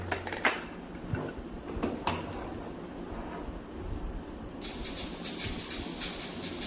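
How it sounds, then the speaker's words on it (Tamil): A steady, loud hiss of steam bursts out and keeps going after a few light knocks, like a pressure cooker letting off its whistle. "இப்போ நல்லா விசில் வந்துருச்சு"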